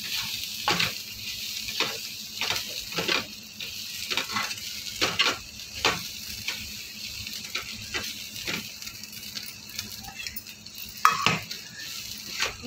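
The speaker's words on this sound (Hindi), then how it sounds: "इसको अच्छी तरीके से मिलाऊंगी।" Okra frying with ground fennel, cumin, fenugreek and nigella in a pan, stirred with a metal spoon: repeated scraping and clinking strokes over a soft steady sizzle, close and without talk.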